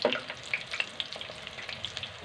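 Green chillies sizzle and fry in hot oil in a home kitchen, a soft, steady crackle with small popping bursts, close and fairly quiet, with no voices.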